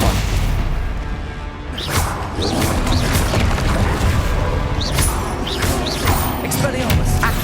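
Spell-casting in the Hogwarts Legacy video game, a Stupefy stun spell amid a busy duel: sharp magical whooshes and thudding booms burst repeatedly over a dense, continuous wash of combat effects and rumble.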